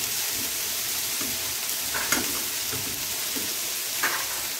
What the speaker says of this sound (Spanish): Las taritas ya se están friendo muy bien.